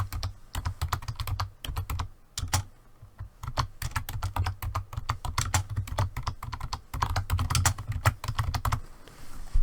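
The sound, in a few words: typing a file name on a computer keyboard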